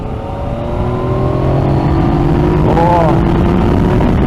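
A Yamaha MT-09 Tracer motorcycle rides along, its engine droning loud and close under heavy wind rush as it pulls harder, with rising and falling engine tones as it accelerates.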